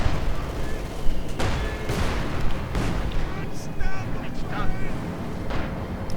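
Explosions, artillery and gunfire from a Company of Heroes 2 battle with a StuG assault gun and shock troopers, dense and continuous, with heavy booms and rattling shots that overlap through the whole stretch.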